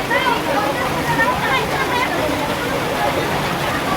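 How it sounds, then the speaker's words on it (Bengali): Heavy rain pours steadily outdoors as a dense, even wash of noise that stays loud and unbroken throughout, with no distinct drops and no clear voices. "এই দেখো বৃষ্টি প্রচুর বৃষ্টি।"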